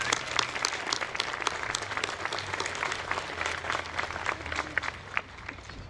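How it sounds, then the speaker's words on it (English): A commencement ceremony crowd gives graduates one more round of applause: sustained, fairly distant clapping filling the hall, steady with scattered sharper claps and a low hum underneath. "let's give them one more round of applause"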